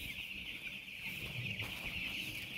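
Broiler chickens cluck and chirp continuously as a flock, a dense, steady chorus of many birds close by with no talking.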